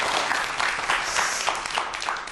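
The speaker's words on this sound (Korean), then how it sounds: "좋은 강연 해주신 조안호 대표님께 다시 한번 큰 박수 보내주시기 바랍니다." Applause from a lecture audience after the talk ends, a full, continuous crowd of hands clapping at an even level throughout.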